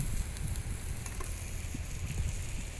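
Onion, garlic and chopped ginger hit hot oil in a pan, giving a steady, close-up sizzle and crackle that runs throughout without any speech.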